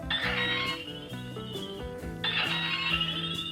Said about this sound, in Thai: ในหนังเวลาที่ตัวละครเปิดปิดจอโทรศัพท์ก็จะมีเสียงแบบนี้นะฮะ